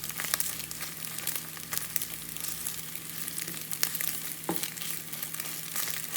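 Scrambled eggs sizzle quietly in a non-stick skillet while a wooden spoon stirs and scrapes them, soft crackling frying noise with occasional light taps and knocks of the spoon, close and fairly faint, no talking.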